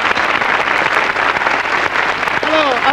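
Studio audience on a French television variety show applauding steadily, a dense sustained clapping that carries through, with a voice breaking in near the end.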